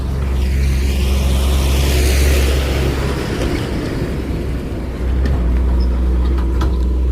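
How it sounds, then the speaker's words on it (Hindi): A gravel truck driving along a dusty dirt road by farm fields, its engine a loud steady rumble close by throughout, broad roadway noise with no talk. "बजरी के जो ये ट्रक हैं ये चल रहे हैं यहाँ पे। आप देख सकते हैं मेरे पीछे भी एक ट्रक आ रहा है।"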